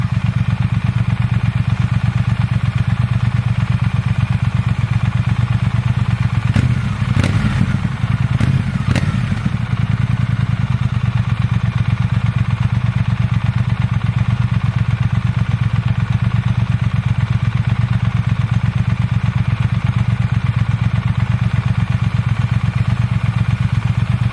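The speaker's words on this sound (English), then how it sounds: "this is the stock exhaust" A Triumph Thruxton RS motorcycle engine with its stock exhaust idles steadily and loudly up close, about 30 inches away, with a brief clattering blip of revs partway through.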